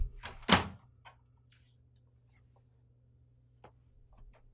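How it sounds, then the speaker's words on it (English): Input tray of an HP OfficeJet Pro 8210 printer slides in with a short scrape ending in one sharp plastic thunk, followed by a few faint clicks and handling noises in a quiet room. "Then slide in the input tray."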